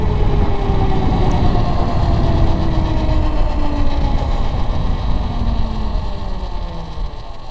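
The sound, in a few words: electric-swapped Grom motorcycle running, sounds like an RC car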